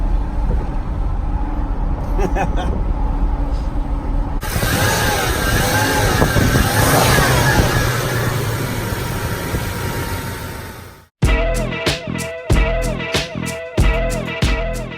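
Third-generation Toyota 4Runner driving down the road, a loud steady interior engine and road roar that swells mid-way, briefly cuts out, then returns with rhythmic pulsing bumps.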